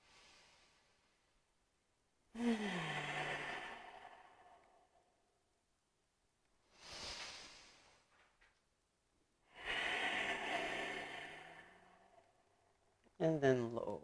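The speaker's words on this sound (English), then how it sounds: "Take a deep breath" Deep breaths drawn during a yoga arm-balance session, with several long audible inhales and exhales separated by short silences. A voice sounds briefly at the start and end of the breathing.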